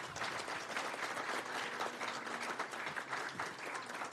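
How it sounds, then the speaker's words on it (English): An audience at a city council meeting applauds scholarship recipients, with dense continuous clapping from a crowd at moderate distance and no talk over it. "Let's give all of them a round of applause."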